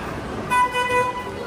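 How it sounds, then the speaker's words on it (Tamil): Horn of a toy train ride rolling through a shopping mall, a clear tonal honk sounding twice in quick succession over steady indoor crowd murmur. "மாலுக்குள்ளே யாரா பின்னாடி ஹார்ன் அடிக்குதுன்னு பார்த்தா நம்ம ட்ரெயின் வண்டி பின்னாடி பாருங்கள்"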